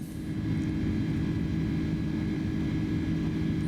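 Inibuilds A310 airliner in MSFS 2024 climbing out of San Francisco, its engines holding a constant, heavy low drone under a faint hiss, with no change in level throughout.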